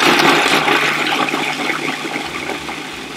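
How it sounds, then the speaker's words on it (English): Food processor ricing cauliflower, a loud continuous whirring, rushing churn that fills the whole stretch and fades slightly toward the end, with no talk. "Now we're going to go ahead and rice the cauliflower."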